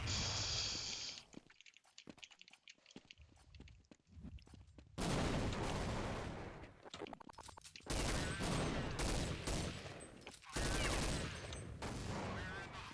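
Gunfire in Counter-Strike 1.6 during a match, with bursts of rapid shots and loud sustained firing that alternate with quieter stretches of clicks and movement, close and harsh.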